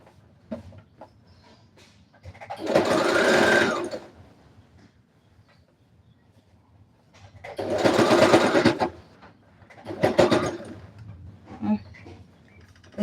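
Sewing machine stitching a Christmas dress, running in three loud, close bursts of rapid whirring stitches separated by quiet pauses with faint handling noise.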